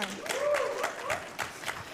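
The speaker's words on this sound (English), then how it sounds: "Can we clap it up once again for the lovely speakers?" A conference audience at a creator-economy talk applauds the speakers with a soft, steady patter of clapping that stays distant and fairly faint throughout.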